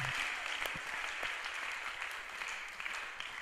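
Worshippers at a church service applaud in praise, a steady, even roar of many hands clapping close by throughout, with no pause.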